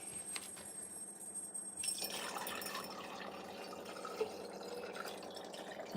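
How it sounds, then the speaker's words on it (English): Water poured into a flask sitting on a laboratory stir plate, a soft liquid trickle with faint drips and glassy clinks against steady background hum. "I'm gonna pour in some water."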